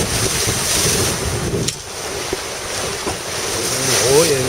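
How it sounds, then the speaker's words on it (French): Ocean swell and wind at sea aboard a racing sailboat, a Constructions du Belon 868 in a sailing race: a loud, continuous rush of wind buffeting the microphone over breaking waves and water sloshing against the hull. "En gros, il y a une belle houle."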